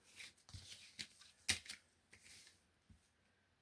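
Scissors cutting paper for a junk journal pocket, a series of quiet, crisp snips and rustles spaced irregularly, close and faint, with one sharper cut near the middle.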